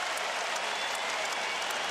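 Basketball arena crowd applauding the MVP during a Warriors–Spurs game, a dense, continuous roar of clapping and crowd noise filling the whole moment, loud and even.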